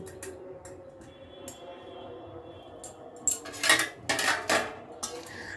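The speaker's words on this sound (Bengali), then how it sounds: "আবারও সব কিছু ভালো করে মিশিয়ে নিচ্ছি।" Fried eggplant and fish being mixed in a pan: a quiet stretch, then a burst of metal spatula scraping and clattering against the pan in several loud, uneven strokes.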